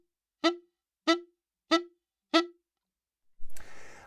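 Reed instrument sounding four short, detached staccato-tongued notes on the same pitch, evenly spaced and clean with silence between, followed by a brief burst of noisy rustle or breath at the end.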